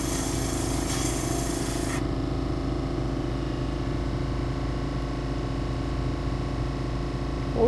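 A fairly soft rock is ground down by hand for jewelry, giving a steady, continuous rasping rub at an even loudness throughout, with no pauses and no talking.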